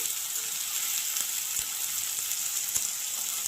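Cumin seeds temper in hot oil in a pan, a steady close hissing sizzle with small crackling pops running throughout.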